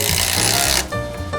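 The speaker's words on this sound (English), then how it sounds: "we will drive this lag all the way in" Lag bolt driven into wood with a non-impact socket and washer: a loud, steady grinding whir of a power driver that cuts off, then a quieter rubbing tail.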